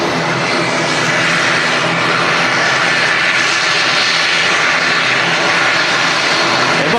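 An airliner taxiing off the runway at Manchester Airport, its engines producing a loud, steady, unbroken roar throughout.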